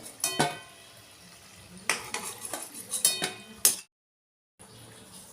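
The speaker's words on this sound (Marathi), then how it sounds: "आपल्या कापण्या तळून झालेले, लालसर रंगावर मंद आचेवरच मी तळलेले। आता काढून घेऊया।" Fried kapnya lifted out of a frying pan, with close metallic clinks and scrapes of a utensil against the pan in bursts, a brief full silence, then faint sizzle returning.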